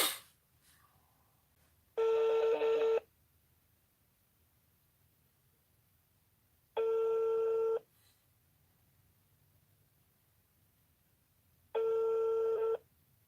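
Ringback tone of an unanswered telephone call: three long evenly spaced rings with quiet gaps between them, close and alone.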